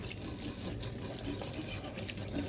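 Rusty kitchen ware, including a knife set, being rinsed under a running kitchen tap, a steady close hiss and splash of flowing water that lasts throughout.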